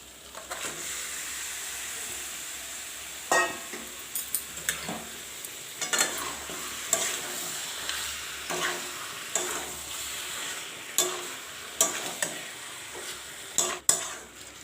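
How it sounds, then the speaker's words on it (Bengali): Chicken meat frying with spices in a pan for Bengali chicken curry, a steady close sizzle with periodic utensil scrapes and clinks against the pan, no voices. "মশলাটাকে সামান্য একটু নেড়ে নিয়ে এর মধ্যেই দিয়ে দিচ্ছি মাংসটা।"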